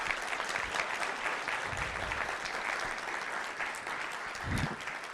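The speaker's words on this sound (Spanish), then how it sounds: "Un fuerte aplauso para el doctor Armando Zacarías" An audience at an academic panel on political press coverage claps for a speaker, a dense steady round of applause that carries on unbroken from start to finish.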